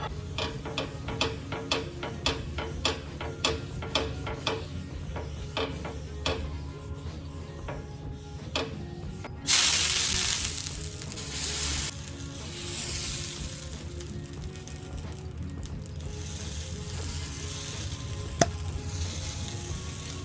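Oil sizzling on a large tava before making chilla, a steady frying hiss that starts with rhythmic ticking and then swells into a louder, sustained sizzle partway through, with no talking.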